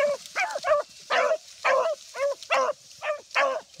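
A young 8-month-old hunting pup bays while chasing a rabbit through thick cover, a run of about ten repeated howling barks at a steady pace, fairly close and clear with no talk.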